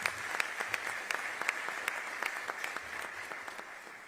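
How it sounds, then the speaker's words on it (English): An audience at a county executive's public event applauds the state's attorney, a continuous ripple of many hands with distinct nearby claps, heard at a modest, slightly distant level. "Let's give her a round of applause."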